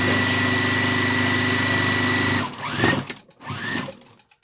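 A sewing machine stitches an appliqué onto a tote bag with a fast, even mechanical whir for a couple of seconds, then slows and stops in a few short uneven bursts.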